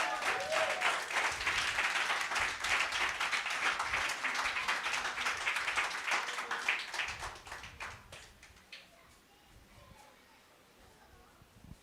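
A church congregation bursts into strong applause for about eight seconds, dense clapping mixed with voices, then the clapping thins and fades, leaving a quieter hall with scattered sounds.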